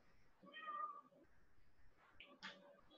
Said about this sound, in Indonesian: Ada kucing masuk rumah, Ibu jadi nggak fokus.